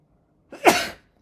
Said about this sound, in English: I just sneezed on my laptop, iPad.